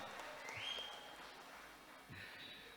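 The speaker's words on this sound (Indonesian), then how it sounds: "Tepuk tangan dulu untuk kita Cirebon." An audience at a Cirebon city award presentation applauds in a steady, diffuse patter of clapping that sounds faint and distant, with no speech over it.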